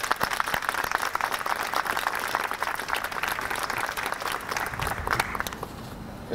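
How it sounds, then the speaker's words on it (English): An outdoor audience at a Salvadoran flag raising in Yonkers, marking El Salvador's independence, claps in a steady, fairly distant patter of many hands that thins slightly toward the end. "Give yourselves a round of applause."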